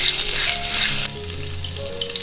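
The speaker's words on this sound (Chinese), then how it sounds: "把姜丝放下来炒香。" Shredded ginger sizzles loudly in a little hot oil in a wok while being stir-fried; the crackling hiss is strong at first, then drops sharply to a softer, steady fry.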